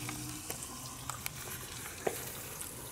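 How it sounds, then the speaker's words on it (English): Bacon and eggs fry in a pan in an RV kitchen, a steady soft sizzle broken by a few small crackles and pops, fairly quiet and close with no talking. "I'm making bacon and eggs."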